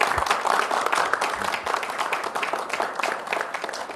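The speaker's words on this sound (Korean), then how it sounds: "우리 대통령님께 고마운 마음으로 박수를 보내주시기" A room of party officials breaks into brisk applause, dense clapping from many hands that carries for several seconds and slowly tapers.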